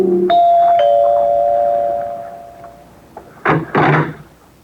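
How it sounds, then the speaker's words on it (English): An apartment doorbell rings with a clear two-tone chime that rings out and fades, followed by a couple of dull door thumps. "made it with no trouble, and rang the bell to Helen's apartment."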